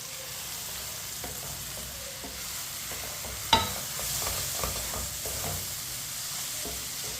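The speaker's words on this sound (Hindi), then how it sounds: "पाँच मिनट हो चुके हैं, भिंडी को ऐसे ही पकते हुए। चम्मच ला लेंगे।" Okra (bhindi) with besan frying in a pan and stirred with a spoon: a soft, steady sizzle with scraping strokes and one sharp metallic clink, no talking.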